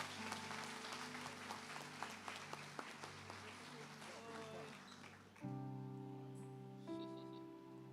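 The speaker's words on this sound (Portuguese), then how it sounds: "Você pode aplaudir o Senhor?" Applause from a church congregation during a worship service, scattered clapping rising over a steady musical drone and murmuring voices, then giving way to sustained organ-like chords.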